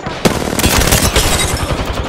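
Rapid automatic gunfire from Apex Legends rattles close and loud in a continuous stream of shots, with a sharp burst near the start and steady firing throughout.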